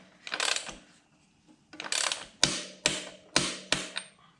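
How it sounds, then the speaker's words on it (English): Rear wheel nut on a KTM 350 dirt bike being tightened with a torque wrench: two bursts of ratcheting clicks, then four sharp, evenly spaced metallic clacks close up, with no talking. "don't forget to tension the rear wheel nut, which is that 59 foot-pound torque"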